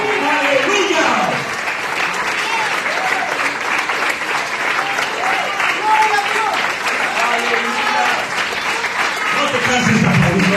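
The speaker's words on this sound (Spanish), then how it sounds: "No te canses de aplaudir, Señor." A church congregation applauds in a dense, sustained wave of clapping that runs throughout, with a voice speaking over the top.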